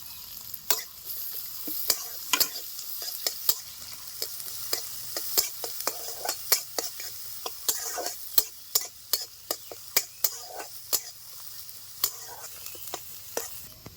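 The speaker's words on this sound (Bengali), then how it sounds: "পেঁয়াজ রসুন ভাজা ভাজা হয়ে আসতে দিয়ে দিচ্ছি" Chopped onion, garlic and green chili fry and sizzle in a pan for a Bengali fish curry, with a steady close sizzle broken by frequent sharp clicks and scrapes of stirring throughout.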